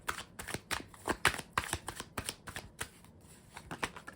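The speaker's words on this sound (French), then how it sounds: "on va aller recouvrir ça" Tarot cards are shuffled by hand in quick, crisp riffles and slaps, about a dozen sharp bursts in an uneven rhythm, close and clear with no talking.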